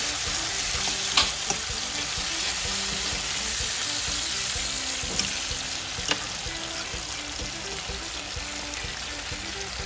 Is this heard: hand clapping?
no